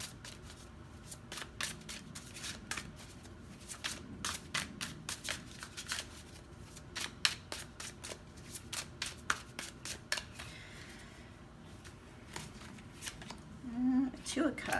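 Tarot cards are shuffled by hand in a long run of quick, crisp riffles and snaps, close and fairly quiet.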